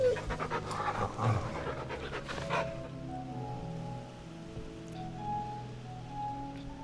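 A dog panting in the video game Final Fantasy XVI: close, rapid, rhythmic breaths for a couple of seconds, then quieter game ambience with soft tonal music.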